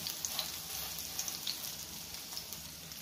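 Prawn head fritters spiced with masala sizzle in hot oil, giving a steady close crackle with scattered sharper pops throughout, and no voices.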